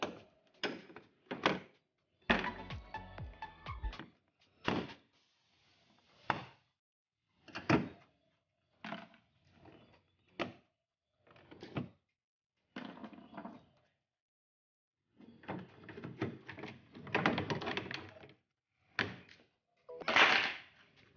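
A plastic clip-on cover being tugged off a car radiator fan by hand: a series of short, separate clacks and thunks with bursts of rattling scrapes, close and quiet, no voices.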